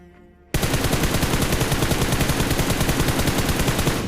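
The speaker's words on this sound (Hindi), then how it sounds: "थोड़ी बहुत अनाधुंध भी गोली चलाई" Rapid automatic gunfire in the BGMI mobile battle game, a sudden loud burst after a brief quiet start, then a fast, even stream of shots continuing to the end.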